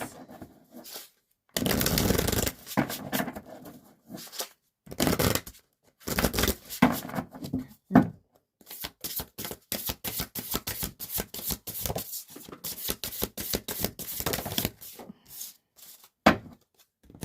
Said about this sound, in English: We're going to pull a couple more oracle cards for you guys.